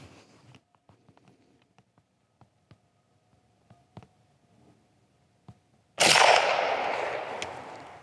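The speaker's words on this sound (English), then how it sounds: "I've got one more round, and we'll take a shot at that plate." A rifle fires once at a steel plate, a loud sharp blast with a long ringing, decaying tail after several seconds of quiet, faint handling clicks.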